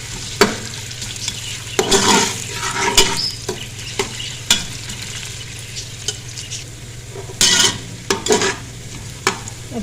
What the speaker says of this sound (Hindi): हमने इसको थोड़ा सा फ्राई करना है ताकि ये थोड़ा सा सॉफ्ट हो जाए।